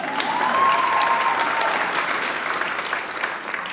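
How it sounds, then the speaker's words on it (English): Steady audience applause after a storyteller is introduced at a spoken word event, a dense wash of clapping hands filling the room, loud and sustained throughout. "Go ahead, you can applause."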